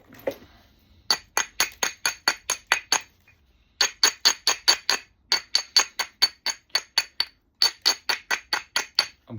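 A hammerstone knocks repeatedly against seaside flint during knapping, giving sharp, glassy clicks in fast even bursts of six to eight strikes separated by short pauses, close and loud with no talk.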